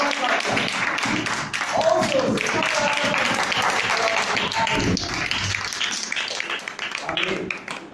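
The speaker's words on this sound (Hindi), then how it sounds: "खुदावंद की कलाम के लिए जोरदार तालियां" A church congregation applauds loudly and steadily for several seconds, dense clapping filling the room, with voices mixed in beneath it.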